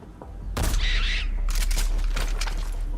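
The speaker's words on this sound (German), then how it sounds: "Da war doch mal ein Schuss." A loud gunshot bursts out in Metal Gear Solid 5: The Phantom Pain, followed by a sustained crackle and a rumbling tail of further shots over a low background hum.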